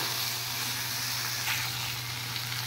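Spice paste with chopped tomato and a little water frying in a pan, a steady close sizzle and hiss running without pause.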